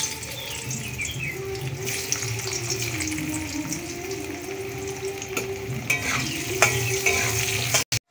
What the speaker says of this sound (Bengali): আমি এই মাছের তেলেতেই আলুগুলো ভেজে নেবো